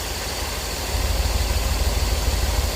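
Car engine idling after a cracked ignition coil was replaced to cure a misfire, with new cap, rotor, spark plugs and wires; a steady low rumble with a rhythmic pulsing throb that strengthens partway through, alone and fairly quiet.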